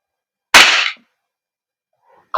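A single sharp crack from an Umarex Glock 17 Gen 5 MOS airsoft gas blowback pistol firing, close and loud against silence, followed by the start of another shot.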